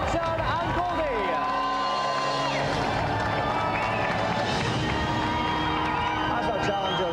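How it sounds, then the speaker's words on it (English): A game show studio audience cheering and applauding, a dense continuous roar of claps and whoops with music playing over it throughout. "Another round of applause, Richard and Goldie."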